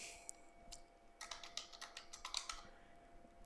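Typing text on a computer keyboard while working in Fusion 360, a quick run of close, crisp key clicks after a couple of isolated taps, with no talking.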